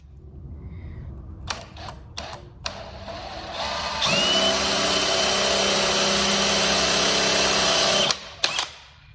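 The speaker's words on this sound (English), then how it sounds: "And I'll do my countersink first." A drill bores a countersink hole in wood, first a few light taps and clicks, then one steady, loud, close whine of about four seconds before stopping with a couple of knocks.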